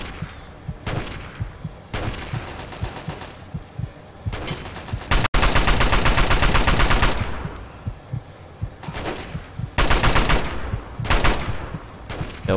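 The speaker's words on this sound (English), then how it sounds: "Who's shooting me?" Rapid automatic gunfire in Fallout 3 comes in several loud, sustained bursts separated by short gaps, some stretching several seconds, with heavy sharp cracks up close and no talk over it.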